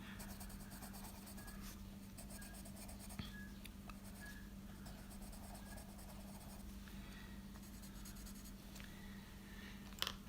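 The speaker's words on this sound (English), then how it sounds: "I'm enjoying using my Crayolas again." Crayola coloured pencil colouring on paper, a soft continuous scratchy stroking close by, very quiet over a low steady background hum.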